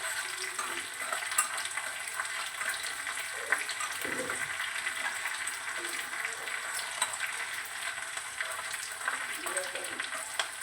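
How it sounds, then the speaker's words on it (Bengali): Spices temper in hot oil for dal, giving a soft, continuous hiss and crackle that stays steady and fairly quiet throughout, with no talking. "লাল লাল হয়ে গেলে পরে ফোড়নটা দিয়ে দেবো আমি।"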